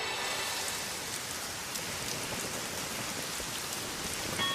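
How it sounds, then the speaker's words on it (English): Steady rain conjured by Storm in a motion comic falls as a dense, even hiss of drops hitting surfaces, constant and unbroken throughout. "You're just going to have to settle for rain"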